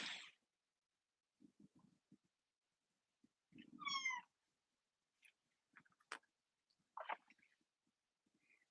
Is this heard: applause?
no